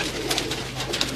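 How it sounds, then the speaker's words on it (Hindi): A group of teddy breed pigeons coo together close by, soft overlapping throaty coos in a dense, continuous murmur with no talking. "ये जी टैडी कबूतरों की एक ग्रुप वीडियो आपकी स्क्रीन पर है"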